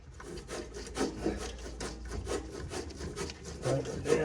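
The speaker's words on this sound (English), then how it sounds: "Put a bolt there, put my ratchet in here." Ratchet tightening a bolt on a John Deere D105 riding mower, repeated short rasping clicks and scraping strokes in an uneven rhythm, close and faint with no talk.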